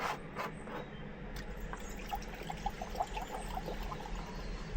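Water pours steadily into a stovetop coffee maker outdoors near a lake, a soft continuous trickle with small splashes and faint plinks, no voices.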